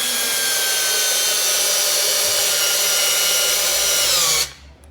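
A Milwaukee M12 Fuel 4-in-1 installation drill/driver spins a bit at speed 1 with a loud, steady high whine. It cuts off sharply just before the end.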